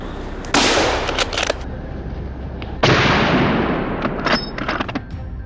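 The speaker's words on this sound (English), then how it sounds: "I tracked them and fired multiple rounds, adding more trophies to our tally." Rifle gunfire during a wild boar hunt near a corn field, two loud, sharp shots each followed by a long rolling echo, with smaller pops in between.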